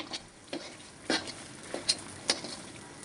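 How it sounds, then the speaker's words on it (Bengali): Lentils stirred and frying in oil in a pan on a lit stove: a faint, steady sizzle broken by a few soft scraping stirs, close by, with no talking. "এখন এই তেলে ভালোভাবে এটাকে ভেজে নিব অনেকক্ষণ ধরে ভাজতে হবে"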